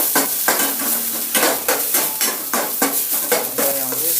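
Ginger and garlic frying in a pan, bright crackling sizzle with a rhythmic series of scraping stirs and light utensil knocks against the pan, close and fairly loud, no voices.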